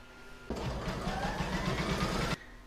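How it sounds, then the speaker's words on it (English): An embroidery machine stitches batting onto a hoop for an in-the-hoop baby bib, giving a steady, fast mechanical chatter for about two seconds that starts and stops abruptly, close and alone. "I'm now going to pop that in my machine and stitch round number 5, and that's going to attach the batting to the hoop."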